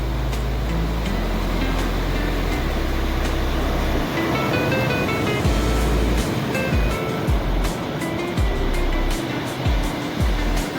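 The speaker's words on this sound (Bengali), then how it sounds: "সমুদ্রের ঢেউ আসছে দেখো আমার দিকে চলে আসছে" Rough sea waves roll onto a beach in a continuous loud wash of surf, with a low rumble underneath and no talk.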